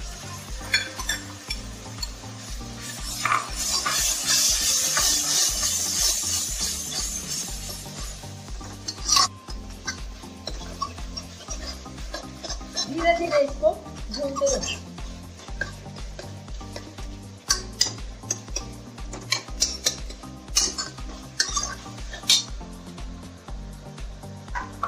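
Vegetables for pav bhaji sizzle in a hot pan as tomatoes are tipped in over browned onion, a steady loud fry at first, then scraping and stirring strokes with clinks of the utensil against the pan.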